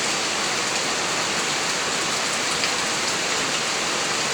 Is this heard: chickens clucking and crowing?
no